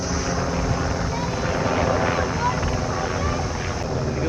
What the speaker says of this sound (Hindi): देखिए ऊपर हेलीकॉप्टर है